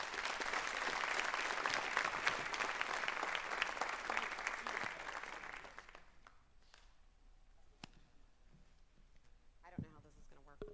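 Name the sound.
audience applause for graduating students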